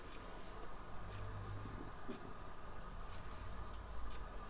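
A clock ticks faintly in a quiet old farmhouse room, a regular, even tick repeating about once a second beneath a low, steady background hum.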